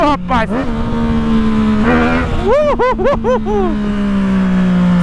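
A Yamaha MT-09 motorcycle engine revs in loud rising and falling bursts, with a steady idle drone beneath, while someone talks over it.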